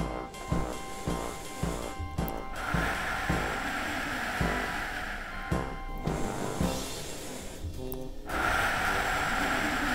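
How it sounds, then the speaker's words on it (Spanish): Exaggerated breathing exercise in an animated children's cartoon about swimming, a series of loud, close, rhythmic snorting breaths and gasps, quick inhales followed by longer exhales, with no talking. "Para nadar, se inspira por la boca y se expira por la nariz"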